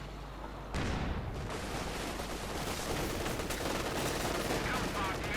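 Sustained machine gun fire rattles through a Company of Heroes 2 battle, a dense continuous burst of rapid shots with layered gunfire and explosions beneath.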